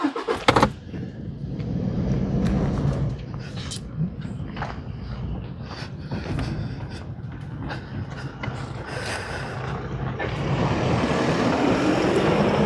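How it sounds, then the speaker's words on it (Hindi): A car reverses slowly on a rocky forest track, its engine a steady low rumble with crunching tyres and brief knocks; the engine stays close and fairly loud, with a voice heard only briefly at the start. "अब मैं बैक करेंगे गाड़ी"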